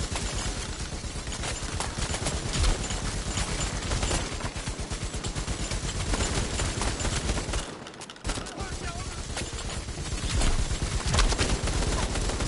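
Continuous volleys of gunfire from the co-op virtual reality shooter Bravo Team rattle on at a steady, loud level with a brief lull partway through, while players talk over the shooting.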